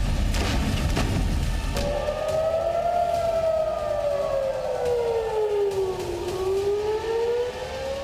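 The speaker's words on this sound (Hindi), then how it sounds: "ये सायरन हवाई हमले के अलर्ट का है।" An air raid alert siren sounds during an emergency mock drill in Uttar Pradesh, India, a loud steady wail that slowly rises and falls in pitch, with no voices over it.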